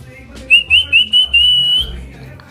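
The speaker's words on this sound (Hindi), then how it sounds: "हाँ हाँ सीटी बजा रहे हो" A person whistles to call a dog at home, a series of short rising whistle bursts followed by one longer sustained whistle, clear and fairly close over quiet indoor background.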